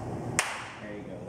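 One sharp film clapperboard clap snaps once, close and bright, against a soft room background.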